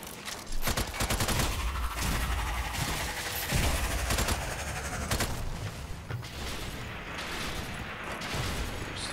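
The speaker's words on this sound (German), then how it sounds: "Peitschen die Schüsse." Rapid gunfire from the video game Strange Brigade, dense overlapping shots crackling loudly and continuously for several seconds, forming a near-constant fusillade.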